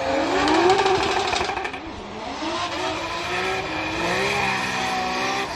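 James Deane's Nissan S15 drift car howls at high revs, bouncing off the rev limiter in rapid stutters with rising and falling engine pitch and some tire noise during Formula Drift qualifying in Atlanta. The sound is loud and fairly close throughout.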